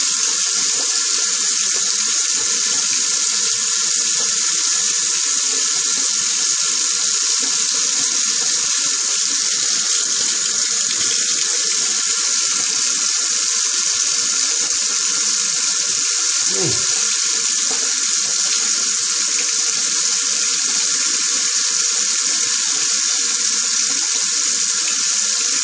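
Tap water runs steadily into a sink for rinsing a razor during a shave, a continuous close hiss with a brief clatter partway through.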